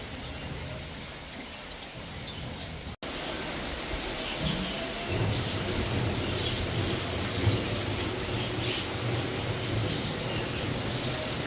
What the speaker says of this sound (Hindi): लेकिन बाहर हो रही है जोर से झमाझम बारिश।